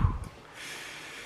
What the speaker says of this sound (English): I was kind of pacing my breathing through my nose, out my mouth